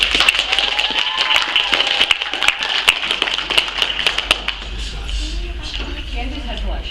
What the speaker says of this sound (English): May I hear some applause for our duet?